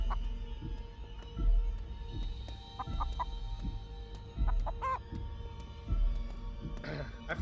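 Chicken clucking in the Chicken Feet video game, a series of short, close clucks and squawks repeating irregularly over a low background hum.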